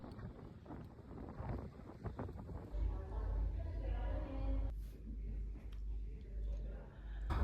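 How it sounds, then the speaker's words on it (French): Strong wind buffets the microphone outdoors on a bike ride, a low rumbling roar that swells and persists for several seconds after someone speaks. "il y a tellement de vent, c'est une folie"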